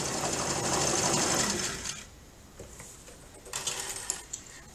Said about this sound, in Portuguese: É overlock pra fazer malharia